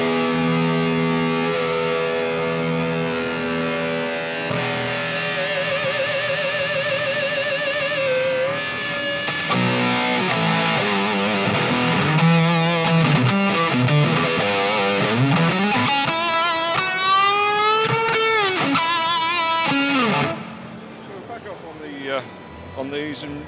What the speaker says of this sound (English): Now the same thing happens on the overdrive channel, but we're talking about distortion